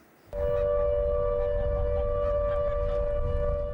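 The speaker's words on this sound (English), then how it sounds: "the flood sirens in the Billing Aquadrome Holiday Park were called into action for the very first time" A flood warning siren at a holiday park in Northamptonshire starts abruptly and holds a steady, loud wailing tone, droning on without pause.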